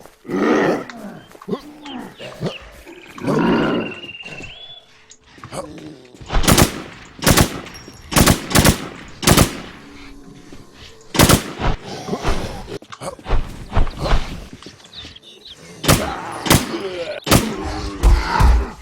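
In the video game Warz, a boss is shot with rapid gunfire: loud bursts of shots come in clusters between growling, roaring creature noises and quieter gaps.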